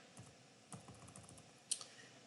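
Quick, light bursts of typing on a computer keyboard, close and fairly quiet, with one sharper key clack near the end and no voices.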